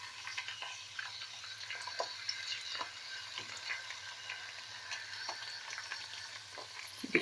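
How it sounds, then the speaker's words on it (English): Steady crackling and sizzling of dandelion-plantain ointment ingredients frying in a pan, with scattered pops and light clicks throughout, no voices. "You could hear that frying sound."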